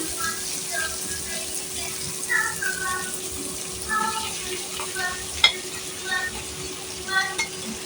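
Chicken pieces stirred into a spicy masala for restaurant-style chilli chicken give a continuous close sizzle and bubbling fry, with soft spatula scrapes and an occasional clink against the pan.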